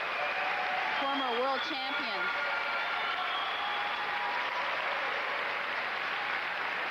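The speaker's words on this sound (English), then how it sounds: "they seem to get the louder ovation from the fans here" Crowd applause for an ice dance team at the 1992 World Junior Figure Skating Championships, a steady wash of clapping running through the whole stretch beneath a commentator's voice.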